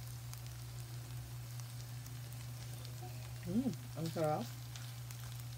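Potatoes and eggs fry in a pan with a steady, quiet sizzle, and a voice speaks briefly near the end.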